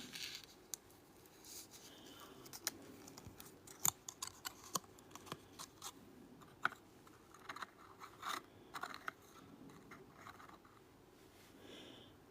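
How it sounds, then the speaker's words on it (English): Scissors snip through an old Christmas card in quiet, close, irregular cuts, with sharp individual clicks and crisp paper rustles spaced across a dozen seconds. "So you cut a square, cut a rectangle, cut a whatever,"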